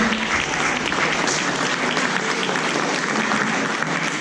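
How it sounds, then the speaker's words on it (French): Steady, dense applause from an audience at a children's Christmas magic show continues evenly throughout, with no pauses. "On applaudit ça"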